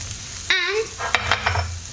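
Mince for a cottage pie sizzles in a pan while being stirred, with a few scraping clacks of a spoon against the pan and a brief tonal squeak near the start.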